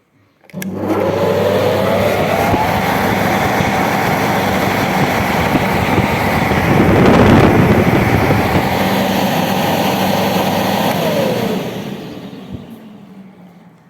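An industrial centrifugal fan, model VTs14-46 No. 3.15, converted to run on 220 V household mains, starts up, settles into a loud steady whine and broad airy roar, then shuts off and winds down.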